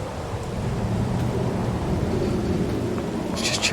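Steady rain and low rolling thunder fill a thunderstorm in Farming Simulator 22 on a farm. The hiss is constant and fairly loud, with a dull rumble underneath and no speech.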